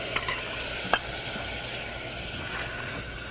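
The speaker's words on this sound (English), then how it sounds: "basically what we're just caramelizing the sugar here." Sugar caramelizing in a pan, a low steady sizzle with a few stirring clicks and scrapes, fairly quiet and close, with no talk.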